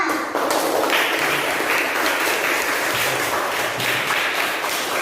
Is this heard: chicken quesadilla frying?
no